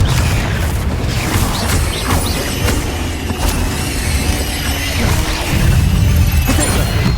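Confringo fire spell in Hogwarts Legacy, heavy booming blasts mixed with crashing, shattering debris, loud and continuous, no talking.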